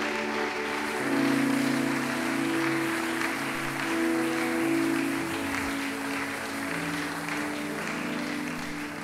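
A church congregation applauding during a service, steady dense clapping from a crowd that holds for several seconds, with a faint sustained tone underneath.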